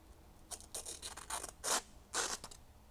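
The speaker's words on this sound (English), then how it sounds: "in just about a minute, I went from tearing the paper to cutting it" A freshly sharpened knife slices through paper in a series of short crisp cuts, about six close rasping strokes spaced irregularly over a few seconds, alone without talk.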